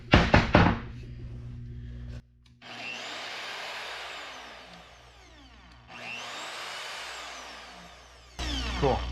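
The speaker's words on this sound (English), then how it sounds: "The magnet hums pretty good." An Evolution EVOMAG42 mag drill's magnet gives a steady low electrical hum, faint and constant. Louder swelling whooshes of handling noise pass over it, with a couple of sharp bumps at the start and end.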